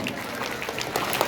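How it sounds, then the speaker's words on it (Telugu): Audience at a martial arts championship ceremony applauding, a dense steady burst of many hands clapping together in a large hall. "క్లాప్ చేయండి. క్లాప్ అందరూ"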